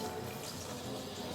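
Water poured from a cup over soaked kidney beans in a pot, a soft, steady splashing rush that stays quiet throughout.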